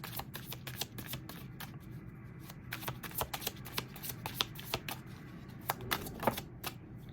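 Tarot cards are shuffled and handled in a quick, uneven run of crisp flicking snaps, fairly faint and close, with no talking.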